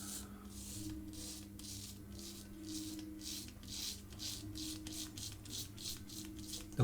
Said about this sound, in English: I mean, you can hear it's cutting because the more I go over the same bit,